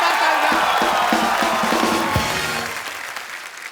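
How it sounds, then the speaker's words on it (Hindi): A studio audience applauds and cheers loudly for actor Hrithik Roshan on a comedy show, a dense burst of clapping with whoops that gradually fades. "एक बार ऋतिक रोशन के लिए जोरदार तालियां"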